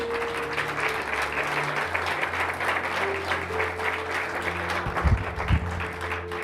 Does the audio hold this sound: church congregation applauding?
yes